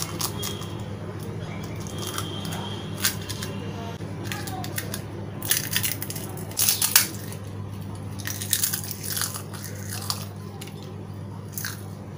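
Crisp fried golgappa puris crackle and snap in irregular bursts up close, sharp crunches scattered over a steady low background hum.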